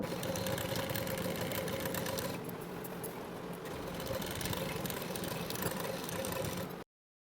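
A sewing machine stitching a blouse front with a pinned nylon piece runs in a continuous close mechanical whir with fine rapid rattling, slowing briefly in the middle before stopping abruptly.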